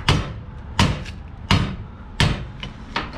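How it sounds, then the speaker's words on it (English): A hammer strikes a metal board to bend it, with four loud, evenly spaced metallic blows about seven-tenths of a second apart, each followed by a fainter rebound tap, close up with no talking. "Now, Chris, what are you going to do with that hammer?"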